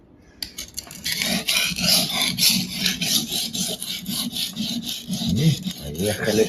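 Knife blade scraped steadily back and forth across a store-bought whetstone, close and loud, with repeated rasping strokes in an even rhythm; a voice speaks briefly at the start.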